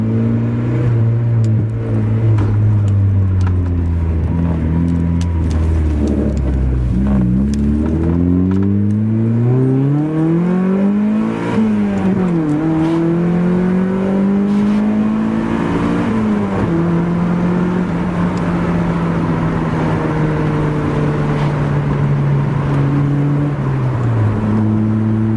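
A Mazda Miata with a 1.6 engine, X-Force headers and a CorkSport catback exhaust accelerates hard from 0 to 60, heard from inside the cabin as a loud, droning engine note that climbs in pitch, drops at each gear change and climbs again.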